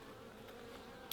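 Faint buzzing of honeybees at an open beehive, a soft steady hum with a brief small knock near the end.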